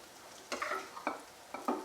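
Ginger paste frying with browned onions in a pan, a low steady sizzle broken by three or four distinct scraping stirs of a spatula against the pan.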